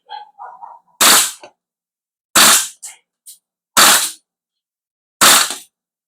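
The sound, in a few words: airsoft HK416 rifle firing on rapid fire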